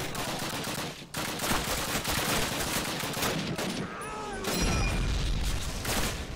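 Sustained Call of Duty gunfire during an assault at Brecourt Manor in the American campaign, dense overlapping rifle and machine-gun bursts firing continuously throughout, with a brief lull near the start and a heavier burst later, under faint shouted voices.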